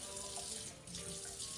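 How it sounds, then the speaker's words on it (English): Water pours into a pot of rice for Persian tahdig, a steady splashing hiss that continues evenly, close and fairly quiet. "Now the water, which is very important to get the right amount."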